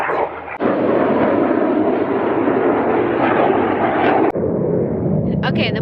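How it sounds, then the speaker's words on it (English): An airplane passing overhead, a loud sustained broadband roar that holds steady for several seconds before easing slightly. "Pause for the plane."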